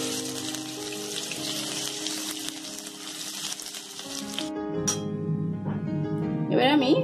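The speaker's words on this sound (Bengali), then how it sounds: "এবার রসুন বাটাটা অ্যাড করছি" Garlic paste fries in oil with fried black cumin for a rohu fish curry, hissing in a steady sizzle that quiets midway, then picks up again with louder spattering near the end, under background music.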